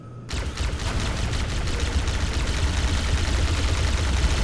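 Sustained rapid gunfire from the Halo MCC video game, a dense continuous barrage that starts abruptly and holds loud and steady throughout with no pauses.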